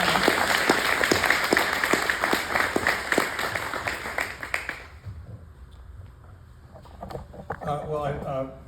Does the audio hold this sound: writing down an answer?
no